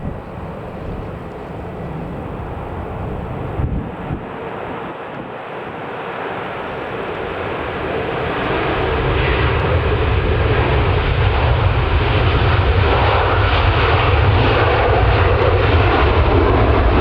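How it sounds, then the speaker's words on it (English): A Virgin Atlantic Airbus A330-300 airliner roars on its takeoff run at Manchester Airport, a broad distant jet rumble that swells steadily louder and fuller, with some wind buffeting on the microphone. "taking off then, we've got a Virgin Atlantic Airbus A330-300 that's going to New York"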